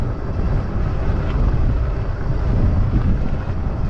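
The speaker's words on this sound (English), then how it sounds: "You guys can hear me, but it's really windy out here" Steady low rumbling wind buffeting the microphone, loud and continuous throughout with no voices.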